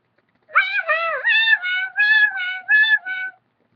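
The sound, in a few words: siren-like wee woo imitated on turkey diaphragm call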